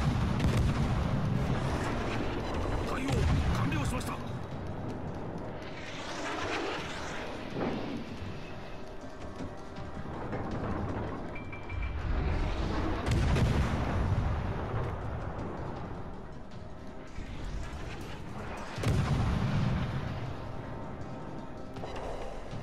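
Heavy naval gunfire in World of Warships: Legends, with US and Japanese warships trading salvos: repeated deep booming shots and rumbling explosions recur every few seconds over a continuous battle din, loud and close, with no voices.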